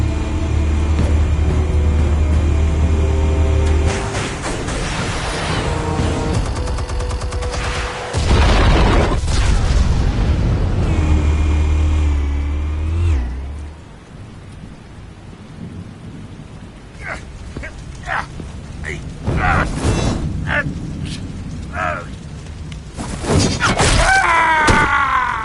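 Explosives detonate in the Batman: Shadows game, with heavy rumbling booms in two long loud surges, followed by a quieter stretch of crackling debris and scattered impacts before another rumble.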